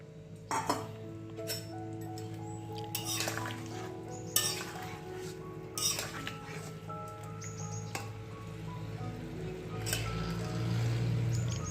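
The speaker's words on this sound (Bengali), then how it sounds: "এইবার আমি এই যে বড়া ভাজাগুলো সব দিয়ে দেব।" Fried lentil fritters are added to cooked bottle gourd in a pot, producing scattered close clinks of a utensil and soft wet squishes over a low background hum.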